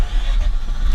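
Mazda RX8 rotary engine restarting hot after an ignition coil upgrade, a steady close rumble with a broad hissy exhaust tone throughout, no talking.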